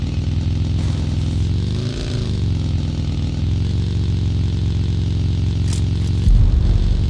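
A motorcycle engine in the PUBG video game runs in a steady, loud drone with a faint rise in pitch, heard alone without talk.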